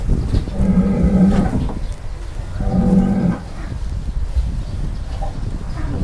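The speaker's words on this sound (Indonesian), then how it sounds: "Ini kegiatan menimbang sapi" Cattle being weighed at a cattle trading yard near Jakarta give two loud, drawn-out moos in succession, close by against a low background rumble.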